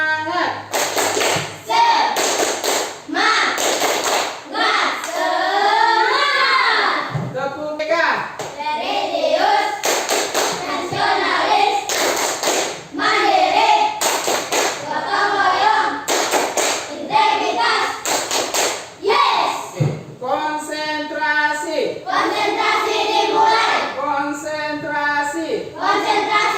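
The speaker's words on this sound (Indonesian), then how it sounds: "Coba tepuk semangat lagi sekali" Students in a classroom lesson perform a rhythmic spirit-clapping routine, loud patterned claps and slaps in bursts, with children's chanting voices and a teacher talking between and over the sequences.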